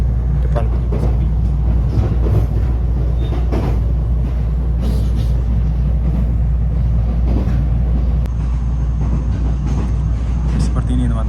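A rural train in a Japanese countryside village runs steadily, heard from inside a nearly empty carriage as a continuous low rumble and rattle with faint clicks, while a person talks over it.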